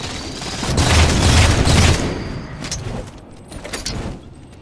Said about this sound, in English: just throwing a few nades there to make Rob retreat